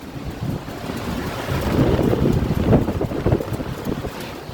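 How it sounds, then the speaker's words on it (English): Airflow from an air conditioner unit that is not cooling, a steady broad rushing whoosh that rises and falls slightly, loud and close with no voices. "one obvious thing that you can notice is that we have airflow"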